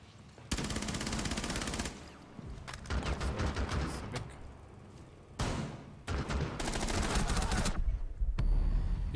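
Rapid gunfire bursts from Rainbow Six Siege, loud automatic volleys in several stretches separated by short gaps, dense and sustained toward the end.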